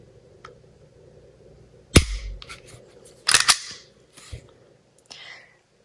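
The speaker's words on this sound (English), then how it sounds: "Trigger pull there." An FN 509 Tactical 9mm pistol snaps with sharp dry trigger clicks, one loud crack followed by a quick cluster of clicks and softer mechanical handling noises in a quiet room.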